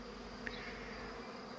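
Honeybees at an apiary hive fly back and forth, making a faint, continuous buzzing hum, with one slightly louder bee passing near early on, and no voices.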